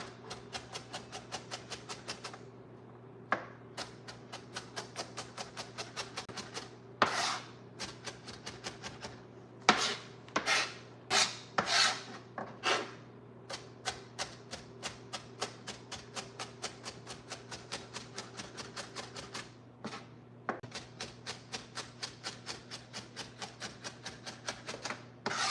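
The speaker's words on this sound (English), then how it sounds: "Why aren't you crying when cutting the onion?" A knife chops onion on a cutting board in a home kitchen, making a long run of quick, sharp, evenly spaced taps with a few louder knocks, close by over a steady low hum.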